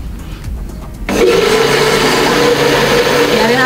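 A kitchen blender whirs loudly and steadily as it mixes cream cheese and protein powder into a shake, starting abruptly after a second of quieter background and then running continuously at low speed.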